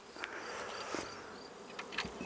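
Honeybees humming steadily at an opened hive during comb removal at an organic apiery, a dense close buzz with a few sharper passes of individual bees, no talking.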